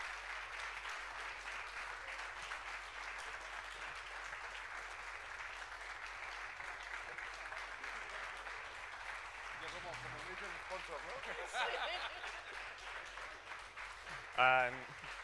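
Audience applause at a conference, a steady wash of clapping that holds evenly through the room, with a brief louder burst and a voice rising near the end.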